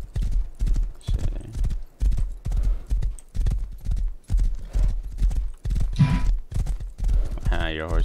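A horse in the survival game Rust gallops in a fast, even clip-clop of hooves, close and loud, with a snort or whinny near the end while players talk over the hoofbeats.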